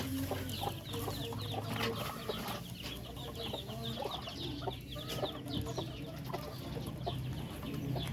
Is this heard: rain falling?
no